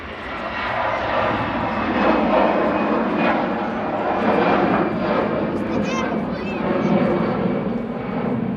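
A Loganair plane takes off at Manchester Airport with a loud, sustained engine roar that swells and holds steady throughout. Someone talks over it intermittently.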